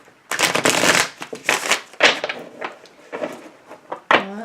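Tarot cards shuffled by hand in several quick riffling bursts, close and crisp, separated by short pauses.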